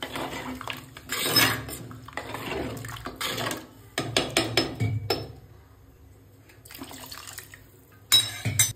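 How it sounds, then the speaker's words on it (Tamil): Water splashes and pours into a metal pan in several short bursts while cooking a dry fish curry, with clinks of cookware between the pours. "இப்போ தண்ணி ஊற்றிக்கலாம்."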